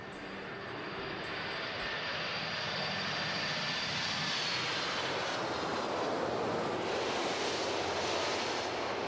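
Engine roar from a Boeing 747-400 airliner, a steady, broad, loud rumbling drone sustained throughout, with no talk.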